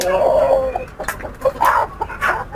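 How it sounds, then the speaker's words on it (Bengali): A hill chicken parent rooster clucks in a few short, fairly loud bursts close by, with pauses between them. "পাহাড়ি যে প্যারেন্ট মোরগ সেটা হলো এই হলো মোরগ"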